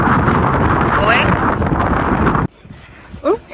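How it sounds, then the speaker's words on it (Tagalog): Loud, broadband wind buffets the microphone outdoors for over two seconds, then cuts off abruptly, leaving quieter background with a brief voice afterward. "Hindi madali kapag may hangin."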